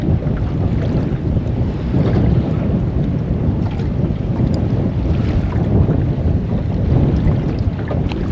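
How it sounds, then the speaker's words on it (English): Steady wind buffets the microphone in a constant low roar while fishing on Lake Macquarie, with faint water and boat noise underneath and no voices. "Wind's up a bit too."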